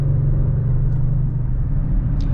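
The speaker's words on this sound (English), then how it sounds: "These Pirellis do have a good amount of grip, but they're very vocal about it." 2021 Audi RS6 Avant at speed on a race track, a steady loud low road roar and hum from its Pirelli tires inside the cabin, with no one talking.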